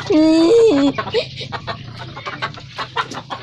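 Rhode Island chickens cluck and squawk up close, a loud tonal call opening the clip before softer scattered clucks and farmyard rustle carry on with no talk.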